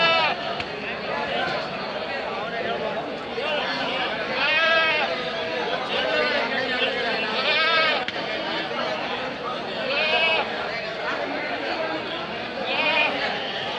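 Sheep and goats at a crowded livestock market bleat repeatedly throughout, several calls standing out over a constant murmur of people talking and bargaining nearby.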